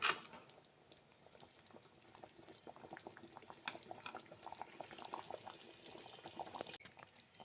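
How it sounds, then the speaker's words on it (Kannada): Mango palya, thickening in its own mango juice, bubbles at a full boil in a pan, a busy close patter of popping bubbles that grows denser and louder toward the end, with no voices. "ಫುಲ್ ಕುದೀತಾ ಉಂಟು."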